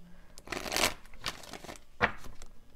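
Tarot cards being shuffled by hand: a few quick riffling bursts with soft papery crackle, close and fairly quiet, with no voices.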